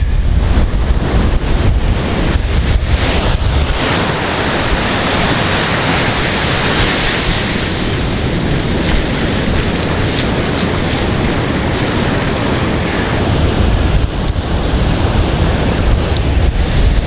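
Heavy ocean surf surges and rolls continuously at Muriwai beach on a New Zealand west coast shore, a loud broad wash of breaking waves with steady wind buffeting the microphone throughout.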